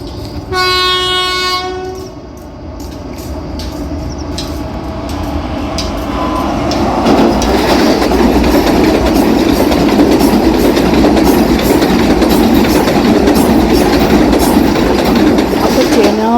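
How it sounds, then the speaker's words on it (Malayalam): Vande Bharat train approaching and crossing the Chenab bridge, opening with a long horn blast, then a steadily swelling rumble and rattle of wheels as it draws near and passes. "ദേ ദൂരെ നോക്കിക്കോളൂ, വരുന്നുണ്ട് വന്ദേ ഭാരത്."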